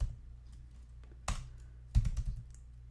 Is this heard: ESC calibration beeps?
no